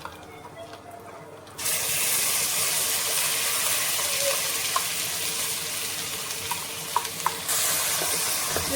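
Ground spice paste for dahi chingri hits hot oil already tinted with turmeric, bursting into a loud, steady sizzle after a quiet start, with a few clinks of a spoon stirring the pan close by.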